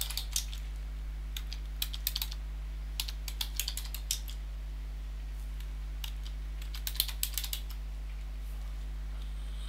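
Computer keyboard typing in scattered short bursts of clicks over a steady low hum, close and fairly quiet, entering a chemical name into a search box with no talking.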